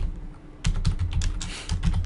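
Rapid typing on a computer keyboard, a close run of distinct key clicks starting after a short quiet pause and continuing in an irregular burst.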